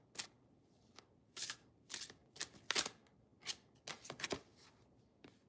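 Deck of gold-edged cards being shuffled close by in repeated quick bursts of riffling and flicking, separated by short pauses, crisp and fairly loud against a quiet room.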